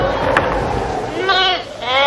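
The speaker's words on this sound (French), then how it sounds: "Une trentaine de moutons, couchés sur la terre brûlante, se reposaient près de lui." Sheep bleat in wavering, drawn-out calls over a dense, steady background wash, with the bleats strongest toward the end.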